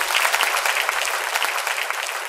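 An audience gives loud, sustained applause for a singer at a Vietnamese music show, a dense crackle of many clapping hands that holds steady throughout.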